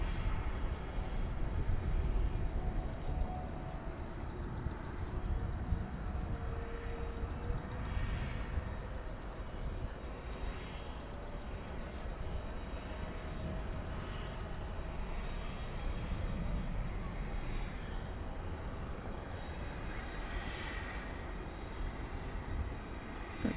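A McDonnell Douglas MD-11 airliner rolls out after landing at Dallas/Fort Worth Airport at night, a steady broadband jet roar heard from a distance that stays constant throughout, with no talk.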